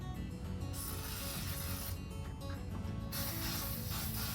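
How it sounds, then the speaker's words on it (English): Bursts of aerosol cooking spray hissing close by onto a waffle maker over a steady background noise, two distinct sprays in quick succession. "carefully spray each waffle maker"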